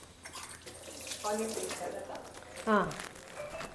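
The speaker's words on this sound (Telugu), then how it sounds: "కొన్ని నీళ్లు పోసుకొని ఉడికిచ్చేద్దాం" Water poured into a cooking pot while making a Telugu taro root tamarind curry, heard as a short splashing pour mid-clip under a voice speaking in the kitchen.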